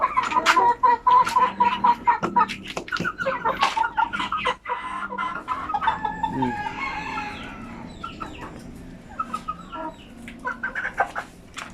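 Basilan native chickens clucking busily at close range, with a rooster crowing in the middle and overlapping bird calls throughout a lively farmyard mix.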